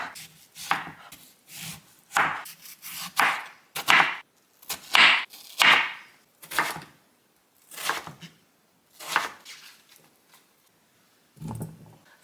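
A knife chops radish into small cubes on a cutting board in a rhythmic series of crisp, close strikes, with short pauses between bursts.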